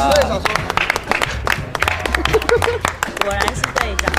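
A small group claps and applauds in a room, brisk hand claps close by, with people talking and laughing over it throughout.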